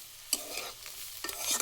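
Potatoes with chilli and spices sizzle in a pan while a utensil stirs them, two sharp scraping strokes standing out over a steady hiss of frying.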